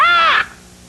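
A single loud, harsh squawk from a parrot up close, lasting under half a second and then cutting off into near silence, with no talking.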